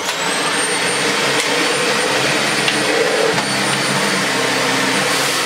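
A Dyson Animal Ball 2 upright vacuum cleaner runs on max power over carpet, giving a loud, steady roaring whine with a high motor tone throughout and no talk.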